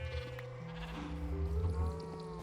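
Low, drawn-out mooing from cows in a Minecraft Stoneblock modpack, several calls overlapping in a steady layered drone, fairly quiet and with no talking.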